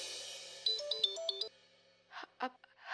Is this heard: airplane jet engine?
no